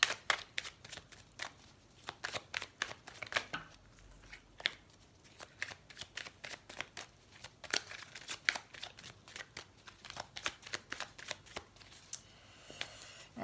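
Tarot cards are shuffled by hand in a quiet room, producing rapid, crisp riffling and slapping clicks in irregular bursts, close and fairly soft, with no talking.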